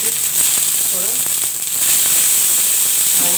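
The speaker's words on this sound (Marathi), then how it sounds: "आता इथे मी डोशाचा तवा तापत ठेवलेला आहे, त्यावर आपण थोडं तेल घालून घेऊया." Oil sizzles on a hot dosa griddle, a steady loud hiss with faint crackles throughout, while someone talks over it.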